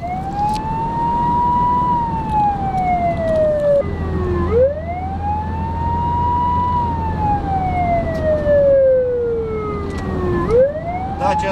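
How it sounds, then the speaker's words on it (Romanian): Emergency vehicle siren wails loudly and up close, rising and falling in long, slow sweeps with a rhythmic pitch cycle roughly every five seconds, with a low engine hum underneath. "vehiculilor cu dispozitivele de semnalizare luminoasă și sonore în funcțiune"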